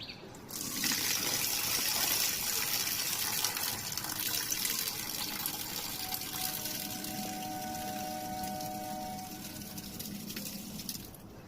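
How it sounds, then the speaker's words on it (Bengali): Water is poured out in a garden, a continuous splashing gush at close range that runs steadily and slowly eases off. "জলটা ফেলে দিলাম।"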